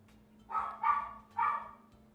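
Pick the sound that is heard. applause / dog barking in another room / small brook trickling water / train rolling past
dog barking in another room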